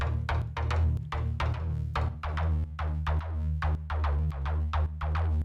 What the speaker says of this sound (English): Both of these are Monarch, which is an awesome mono synth from the Native Instruments suite.